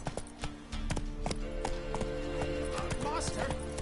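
Roach, the horse in The Witcher 3, clip-clops along with rhythmic hoofbeats under background game sounds and some faint speech.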